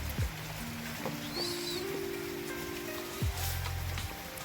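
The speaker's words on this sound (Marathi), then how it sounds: "खूप पाऊस पडत आहे," Heavy rain pours steadily onto farm fields, a constant close hiss of drops with a few low tonal hums running beneath it.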